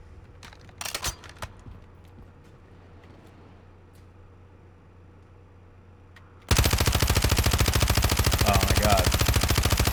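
Suppressed automatic fire from a quartermaster-suppressed rifle in a video game firing range, a sustained rapid burst starting abruptly partway through after quiet ambience with brief sharp clicks and a short exclamation.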